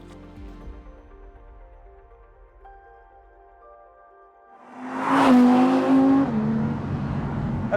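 An Audi R8 GT RWD revs up, a faint engine hum first, then a loud rising roar that swells and holds strong with tire noise, as if accelerating hard past nearby.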